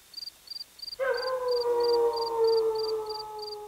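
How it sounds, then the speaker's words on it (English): Coyotes in the Mojave desert at night: a long wavering howl rises after a second and holds, with a regular pulsing chirp ticking faintly from start to finish. "Coyotes howl that night."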